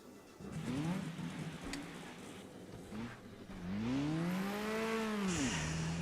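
Capri Group 5 race car engine in RaceRoom Racing Experience revving up and down in sweeping pitch climbs, rising to a loud sustained high rev before dropping back, with a synthetic game-like quality.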